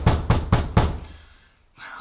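Four quick, firm knocks land on a house door in a Turkish TV drama, evenly spaced and close, followed by a short quiet pause and then a faint rustle.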